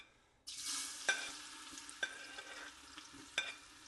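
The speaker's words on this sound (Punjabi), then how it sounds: "ਆਪਾਂ ਨੇ ਵੀ ਥੋੜਾ ਜਿਹਾ ਲਸਣ ਭੁੰਨਣਾ" Garlic hits hot oil in a sarbloh iron pan and starts sizzling, a sudden hiss followed by steady frying with a few sharp scraping stirs, close and fairly quiet.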